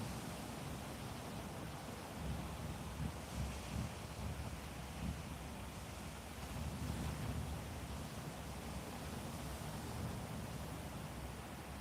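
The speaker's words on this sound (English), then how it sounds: "That's pretty good waves." Atlantic Ocean surf rolls onto a beach at the Grand Strand, a broad continuous roar of waves with gentle swells in loudness, mixed with wind buffeting the microphone; no voices.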